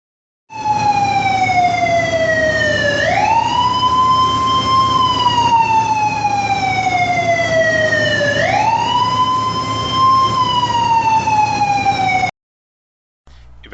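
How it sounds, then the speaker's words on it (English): A loud, wailing siren rises and falls in long, slow sweeps, serving as the recovery boiler's emergency evacuation alarm at a paper mill, steady and continuous for about twelve seconds before cutting off. "The alarm will sound and a strobe light will activate."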